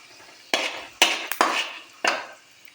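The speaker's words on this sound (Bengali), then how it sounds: "পাঁচফোড়ন দিয়ে ভালো করে নেড়ে নেব যতক্ষণ কালার না আছে" Panch phoron spices, dried chillies and bay leaves being stirred in a frying pan while cooking a brinjal and paneer dish, heard as four sharp scraping clinks of a utensil against the pan at irregular intervals, close and fairly loud, with no talk.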